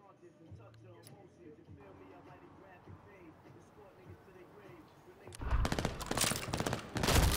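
Call of Duty: Vanguard gunfire erupts suddenly after a quiet stretch of ambient sound, turning into dense, loud rapid bursts for the last couple of seconds.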